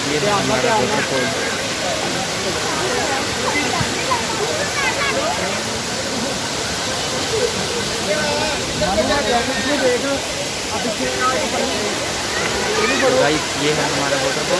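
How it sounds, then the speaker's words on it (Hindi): Bhagsunag waterfall pouring down from a great height, a loud, steady broadband roar of rushing water that fills the whole clip, with people's voices faintly heard under it. "गाइस ये है हमारा वाटरफॉल, कितनी ऊंचाई से पानी आ रहा है।"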